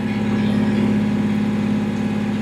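A tractor engine runs hard at high revs and under strain, giving a loud, steady mechanical drone with a constant throb that never drops or changes pitch. No voices are heard.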